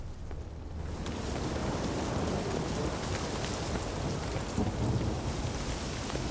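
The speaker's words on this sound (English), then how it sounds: "Suddenly raining so hard." Heavy rain lashes down with rolling thunder in The Witcher 3, a loud, dense roar of downpour that swells after the first second and holds steady, with deep rumbles underneath and no voices.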